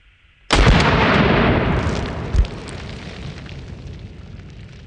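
A PTR-91 rifle fires one loud, sharp shot at a target, followed by a long rolling echo and a second heavy thud about two seconds later, outdoors.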